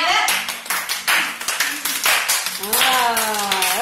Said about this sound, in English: Do you guys know how to do a round of applause?